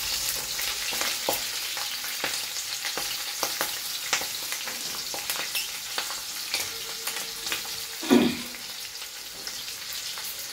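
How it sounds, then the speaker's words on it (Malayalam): Home-grown green chillies frying in hot oil for a gooseberry pickle, a steady close sizzle with scattered crackles and pops and a louder stirring clatter near the end, no talk. "ഇതൊന്ന് വാടിയപ്പോൾ അതൊന്ന് എണ്ണയിൽ കിടന്ന് നല്ലോണം മൂത്ത് വന്നിട്ടുണ്ട്"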